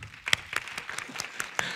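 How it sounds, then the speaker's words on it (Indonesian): Scattered, fairly faint audience applause in a church setting, with a handful of separate claps over a soft crowd murmur, brief and sparse. "tepuk tangan dulu yang lihat ini"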